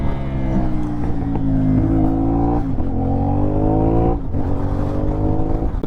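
A CFMOTO 450 NK motorcycle engine drones loudly and steadily under throttle, with two brief dips as the throttle is blipped for clutchless gear changes before the revs pick back up.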